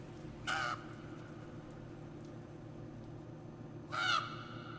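A crow caws twice in the video game The Last Door, two short harsh calls spaced a few seconds apart over a steady low ambient drone.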